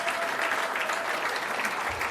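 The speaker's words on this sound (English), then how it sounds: "he deserves a little clap or two" Audience applause for speaker Michael E. Mann, Distinguished Professor at the University of Pennsylvania, at a climate change talk, a dense, loud, close wash of clapping that holds steady throughout with no speech.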